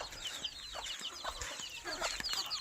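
Country chickens cluck repeatedly in short, busy bursts, several birds at moderate distance on a farm among banana trees, over a steady outdoor background.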